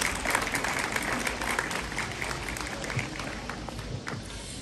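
Applause fills the hall at a school-year closing ceremony at Liceul Teoretic "Constantin Şerban", a steady patter of many hands clapping, fairly close and gradually thinning toward the end.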